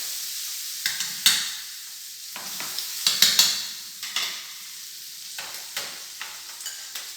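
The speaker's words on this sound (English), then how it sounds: "Go to toast a little bit in the pan, in the paella." A spoon stirs and scrapes across a paella pan as ingredients toast, giving irregular bursts of scraping and clatter over a faint sizzle, close and clear, with no speech.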